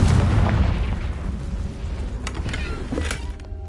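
A Confringo fire spell explodes in Hogwarts Legacy, a loud low rumbling blast that decays over a few seconds, with a couple of sharper pops near the end.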